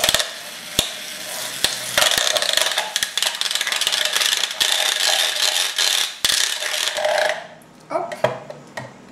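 A blender whirs loudly as the aqueous phase of a homemade cosmetic cream is mixed in, a steady buzzing grind with clicking knocks, then it cuts out near the end, leaving faint handling noises.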